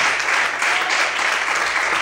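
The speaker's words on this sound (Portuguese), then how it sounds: "Aplaude o Senhor muito forte." Worshippers in a church hall applaud vigorously in a continuous, dense burst of clapping that fills the room for a couple of seconds.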